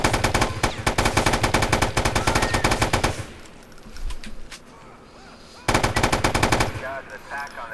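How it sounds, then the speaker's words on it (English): Silenced Mac 10 submachine gun fire in a modded Grand Theft Auto IV, a long loud rapid burst that stops for a couple of seconds of quieter game ambience, then a second close burst follows. "So I have a silenced Mac 11, or it could be a Mac 10."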